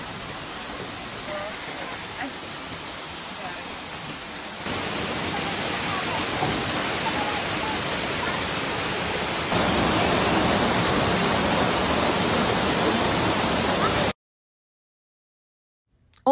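Kaparpan Falls in Abra pours as a loud, steady, broadband rush of falling water, growing louder in stages before cutting abruptly to silence near the end.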